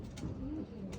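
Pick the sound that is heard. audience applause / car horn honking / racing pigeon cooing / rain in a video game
racing pigeon cooing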